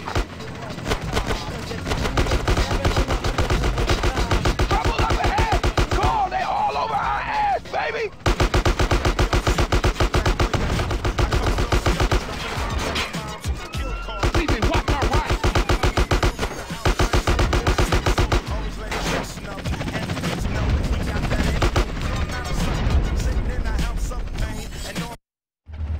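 Gunfire in the video game Grand Theft Auto: San Andreas: loud, dense, rapid shots crackling almost without pause, with a few brief gaps and game voices mixed in.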